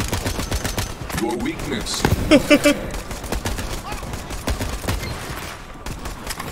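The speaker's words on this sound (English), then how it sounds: "This assault rifle's kind of broken." Assault rifle gunfire in the video game Borderlands 3, firing heat-seeking bullets: rapid bursts of shots under a speaking voice and game sounds.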